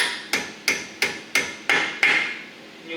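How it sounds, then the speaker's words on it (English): Hammer lightly tapping the piston of a Brembo six-piston front brake caliper on a Lexus GS-F/RC-F, seven evenly spaced metallic taps over three seconds, close and clear with no talk. "Take our hammer here and just"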